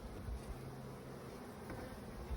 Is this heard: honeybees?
yes